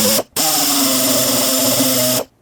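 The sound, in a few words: drill drilling out a fastener on a Volvo V70 door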